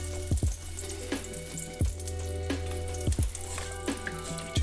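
Butter and avocado oil sizzle in a preheated pan with a steady soft hiss, broken by a few sharp pops and spits, and no voices.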